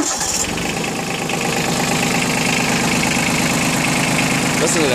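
A Yanmar F155D four-wheel-drive compact tractor cranks briefly, catches and settles into a loud, close, steady diesel idle with a rhythmic knocking chug throughout.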